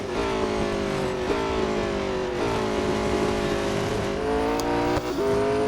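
A GT3 race car engine in the Real Racing 3 video game drones loudly at Spa-Francorchamps, holding a steady high-revving tone broken by several quick gear shifts, with no voices.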